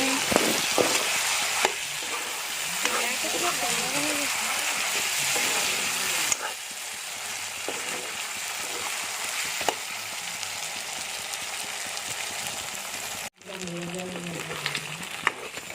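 Meat cooking slowly in a pan sizzles steadily and close by under a person talking, with occasional clinks and a brief cut near the end.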